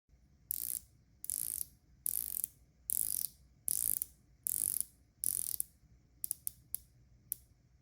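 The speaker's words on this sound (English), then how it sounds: "It is a 120 clicks unidirectional bezel that sounds and feels amazing." A San Martin watch's 120-click unidirectional bezel is turned in short bursts, each a quick run of crisp, close ratcheting clicks, repeated about eight times with brief pauses between.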